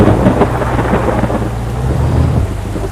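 Heavy rain pours down in a dense, loud, continuous roar with a low rumble beneath, no voices.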